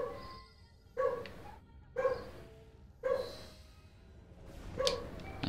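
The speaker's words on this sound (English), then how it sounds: "My dogs won't stop barking" Dogs barking in a video game, about five loud barks at roughly one-second intervals, close by and with no talking.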